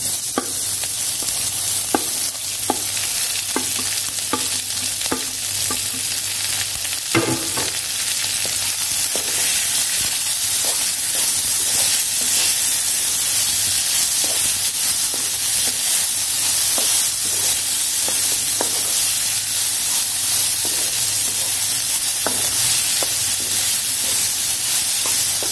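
Cut jackfruit pieces fry in a pan, a continuous loud sizzling hiss with repeated scraping and tapping of a stirring spoon throughout, plus a steady low hum underneath.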